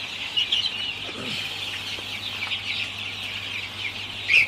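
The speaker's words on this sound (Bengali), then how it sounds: "তো বাচ্চাগুলোকে মাত্র পানি দিলাম, তো পানি খাইতেছে সবগুলো বাচ্চাই।" Young poultry chicks in a hot poultry house, just given water, keep up a steady high peeping and chirping throughout, with a constant low hum underneath and no talking.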